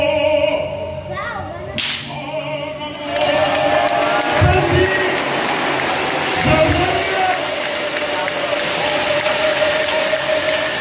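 Loud applause and cheering from a crowd at a centenary celebration of an Armenian church community in Haskovo, sustained across the latter part after a sharp crack and brief commotion, with voices mixed in.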